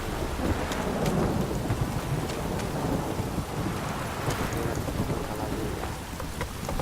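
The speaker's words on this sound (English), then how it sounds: "This downpour's a bastard," Heavy rain pours steadily in a Witcher 3 storm, with thunder rumbling through the downpour; a dense, continuous wash of sound with no talking.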